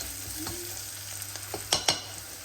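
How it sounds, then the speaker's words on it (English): Salt being stirred into browned onions in a pan for pilau rice, with a steady sizzle under scraping spoon strokes and a couple of louder clacks near the end. "I'm going to add now 1 teaspoon of salt. Mix this in well."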